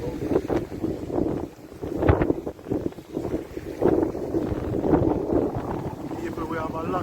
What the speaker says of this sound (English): People, we have a lot of wind here.